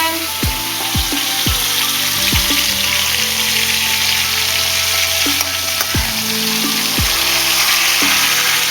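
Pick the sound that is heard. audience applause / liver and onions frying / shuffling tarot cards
liver and onions frying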